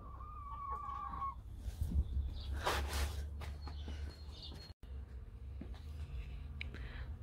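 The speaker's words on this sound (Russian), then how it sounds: "курочки." Hens clucking and calling at a grandmother's farmyard, several close, bright clucks over a steady low rumble, with no talking.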